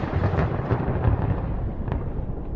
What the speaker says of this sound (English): A storm is coming to Limerick.